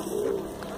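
Pigeons cooing softly in a park, a single brief low coo over outdoor background noise.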